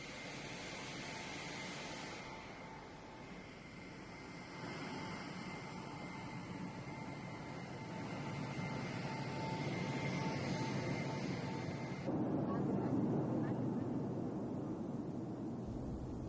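Steady cabin drone of an airliner in flight between Baghdad and Ankara, a continuous broadband roar and hiss with a faint hum, unbroken throughout.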